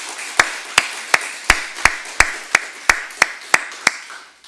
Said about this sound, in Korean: 박수로 한번 격려하겠습니다